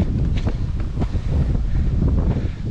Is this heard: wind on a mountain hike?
yes